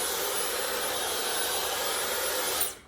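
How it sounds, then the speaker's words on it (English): A hair dryer fitted with a diffuser blows a steady, loud airy roar close by as hair is dried, then cuts off abruptly just before the end. "When I'm blow drying my hair and I'm not touching my hair like this,"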